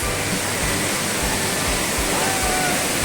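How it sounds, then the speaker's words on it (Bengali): Darjee Falls pours from a great height, a loud, steady rushing roar of falling water that fills the whole moment, with soft low thuds underneath. "অনেক ওপর থেকে জল পড়ছে।"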